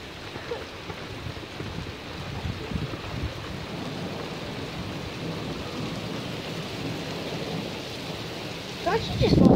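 A thunderstorm in Pennsylvania during tornado warnings: steady heavy rain patters on surfaces with low rumbling thunder underneath, recorded close, swelling louder in the final second.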